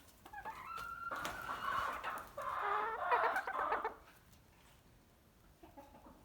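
Bantam chickens in an indoor pen cluck and chatter in two close bursts, then fall quieter with a few soft calls near the end.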